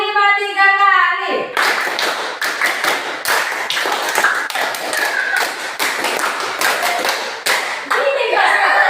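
A group claps out a rhythmic hand-clap pattern repeated three times, a long run of sharp, evenly spaced claps after a brief spoken cue, with a voice resuming at the end.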